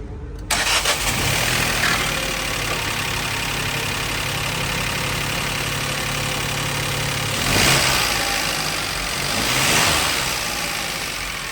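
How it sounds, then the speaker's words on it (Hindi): A Citroën C3 turbo petrol engine cranks and fires up, then settles into a steady, loud idle, with two brief rises in revs near the end. "आइए अब टर्बो इंजन की साउंड सुनते हैं।"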